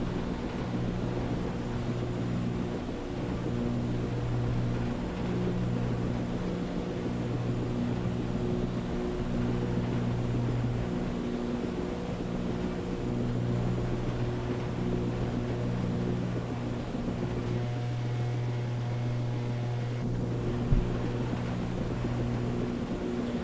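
Twin engines of a Milviz Cessna C310R in Microsoft Flight Simulator droning on approach to runway 27, a steady low hum with a faint rising tone late in the run, alone.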